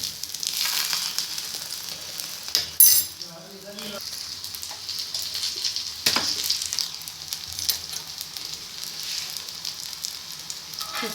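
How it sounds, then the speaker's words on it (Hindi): Kebabs frying in a pan during a Pakistani village breakfast: a steady, moderate sizzle runs throughout, with a few louder clinks and stirring bursts, one near the start and another midway. "साथ साथ कबाब फ्राई हो रहे हैं।"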